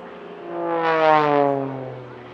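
An aerobatic propeller plane in an airshow routine passes by with a buzzing, harmonic engine drone that climbs in pitch and loudness, peaks, then eases off over about two seconds.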